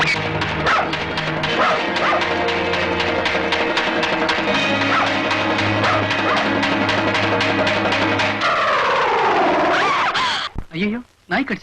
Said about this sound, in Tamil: ஐயோ, நாய் கடிக்க வருது.